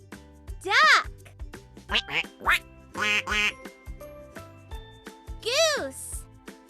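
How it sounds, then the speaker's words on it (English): A duck quacks repeatedly, loud and close. Its nasal, raspy calls come in short bursts, some single and some in quick pairs, with brief pauses between them. "Duck."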